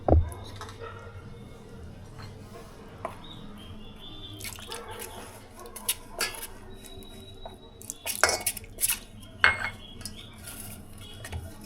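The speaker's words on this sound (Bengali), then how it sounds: "একটু জল দিয়ে এটাকে মেশাবো" Fish being mixed with salt, pepper and water in a bowl, irregular clinks and scrapes of utensils against dishes with a few louder clatters, with quiet speech at times.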